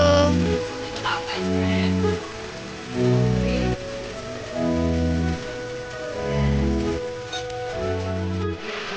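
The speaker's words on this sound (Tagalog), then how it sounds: "Kasi lumakas yung ulan, bigla din lumakas." Heavy rain pours steadily onto a surface with a dense hiss, while a tonal sound rises and falls underneath.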